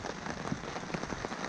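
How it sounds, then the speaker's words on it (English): Rain falling on a tarp during a rainstorm at a northwoods campsite, a close, dense, steady patter of drops with occasional heavier taps. "we are in a rainstorm. I'm huddled up under the tarp, staying dry."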